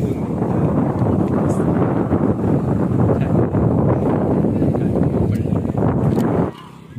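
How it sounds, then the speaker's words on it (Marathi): Strong outdoor wind near a bridge buffets the microphone with a steady, loud, rumbling roar that cuts off abruptly just before the end. "बघू शकता वारा किती आहे तो केसांवरनं"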